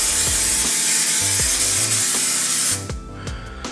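A can of 3M-style trim adhesive sprays in a steady loud hiss for a few seconds while a car headliner is reupholstered, with faint tapping and handling knocks, then the hiss cuts off, leaving quieter rustling.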